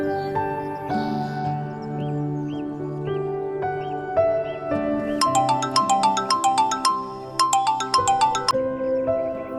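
A melodic phone ringtone plays alone, a looping electronic tune of bright, plinking notes that grows busier toward the end.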